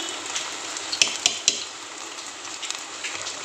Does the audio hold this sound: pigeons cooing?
no